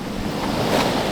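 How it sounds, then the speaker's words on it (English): Ocean waves and wind at sea from a sailing boat, a dense, steady wash of surf and blustery wind noise filling the short moment, loud and close with no voices. "The waves. The wind. And nothing else."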